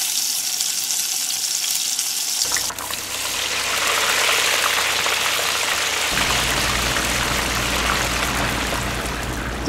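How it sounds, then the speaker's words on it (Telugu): Water pours into a hot cooking pan of pachi masala chicken, making a loud, continuous hiss and sizzle that shifts in tone twice as the pour goes on. "కొంచెం వాటర్ అయితే పోసుకున్నాము."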